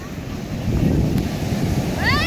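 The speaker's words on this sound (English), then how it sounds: "Do you see the ocean?" Ocean waves at a beach make a continuous low roar mixed with wind buffeting the microphone, steady and fairly loud, with a brief high chirping sound near the end.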